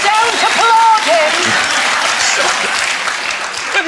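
A studio audience applauds in a dense, loud burst that fades slowly, with voices talking over the clapping.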